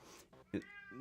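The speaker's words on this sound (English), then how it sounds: "then he starts meowing for like 1 hour" Domestic cat meowing indoors, a short distinct meow rising over quiet room tone, with faint background voice.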